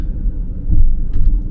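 A car drives into a small Minnesota town's downtown, heard as a steady low road and engine rumble from inside, swelling slightly midway with no talking.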